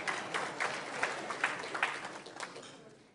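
Brief scattered applause from a small audience at a business appreciation luncheon, a few seconds of clapping that fades out.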